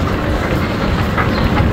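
A train at a Madrid railway station platform, producing a loud, close rumble with rolling wheel clatter that stays steady through the brief moment.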